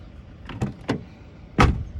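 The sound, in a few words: Honda Civic car doors opening and closing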